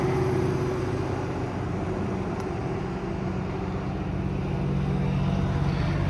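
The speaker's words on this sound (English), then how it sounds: "you hit that toggle up, the compressor comes on. Nice and quiet operation of the compressor." Hydraulic compressor on a 2007 Peterbilt 335 crane truck running steadily, a continuous low droning hum held evenly throughout at moderate level.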